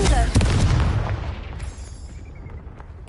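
Confringo explosive spell cast in the video game Hogwarts Legacy, a loud booming blast at the start that rumbles and fades over a few seconds, with a faint high tone lingering.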